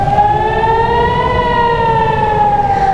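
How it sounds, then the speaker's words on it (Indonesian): Air raid sirens wail during a rocket attack on Nahariya, one loud, sustained rising-and-falling tone that holds steady and near throughout, with a low rumble of background noise and no voices. "Sirine pun terus berbunyi tanpa henti saat rudal memasuki langit kota Naharia."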